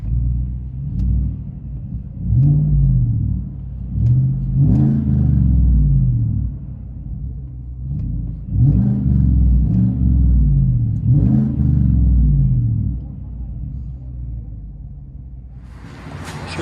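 A 2018 Chevy Silverado 5.3L V8 with dual exhaust and a high-flow catalytic converter revs repeatedly in a deep rumbling burble, each throttle blip rising and falling over a steady idle, loud and fairly close.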